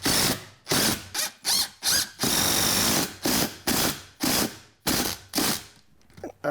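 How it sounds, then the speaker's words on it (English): A power drill drives a screw into scrap wood for a garage workbench in a rapid series of short, loud bursts, about a dozen ratcheting whirrs separated by brief pauses, recorded close up with no talking. "I'm actually going to do one screw down like this, try and suck it in"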